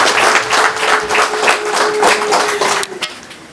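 A crowd at an Umuganura day gathering organised by genocide survivors applauds, a rhythmic burst of many hands clapping in loose unison with a faint held tone beneath, then tapering off into scattered claps.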